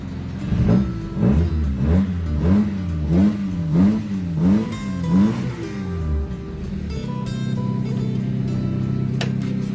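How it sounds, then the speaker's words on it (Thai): A used pickup truck engine, cold after sitting parked two days without starting, revs up and down in about seven quick rhythmic blips, then settles into a steady idle rumble, close and loud. "จอดข้ามคืนนะครับ ไม่ถึงสตาร์ทสองวันแล้ว เครื่องเย็นๆ ติดง่ายครับ"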